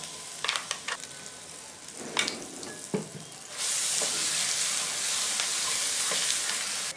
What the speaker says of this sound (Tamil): சட்னி நமக்கு ஒரு 2 நிமிஷம் எண்ணெய் விட்டு வர வரைக்கும் கொதிக்கட்டும்.